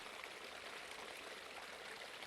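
A flowing river stream gives a steady, soft, continuous rushing wash of water that holds unchanged from start to finish, with no voices.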